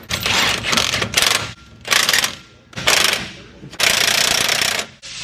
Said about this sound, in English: go ahead and tighten those 27 mil nuts